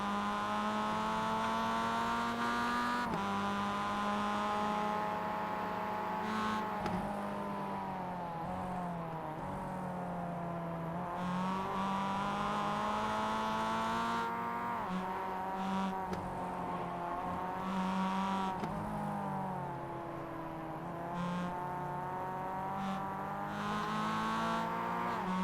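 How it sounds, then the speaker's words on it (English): Mazda MX-5 race cars racing hard at the Summit Point Jefferson circuit give a continuous loud engine drone, rising and falling with shifts and acceleration as several cars battle closely through corners, with no talk over it. "Jack Pollard, while these guys are racing each other really hard, Jack Pollard has been closing the gap a lit"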